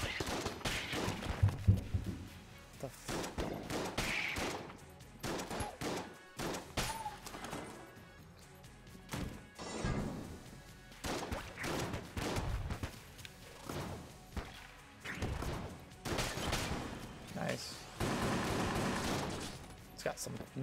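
Rapid shotgun blasts and chaotic gunfire from the video game Enter the Gungeon come in bursts over music and effects, with someone talking over the action.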